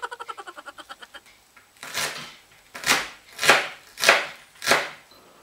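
A knife chopping onions on a board: about five firm, evenly spaced chops, close and clear, preceded by a quicker run of light rhythmic taps.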